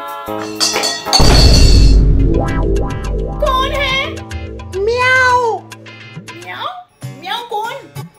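A voice imitates a cat, drawing out several wavering meows with a loud burst of noise early on; the imitation is close and clear.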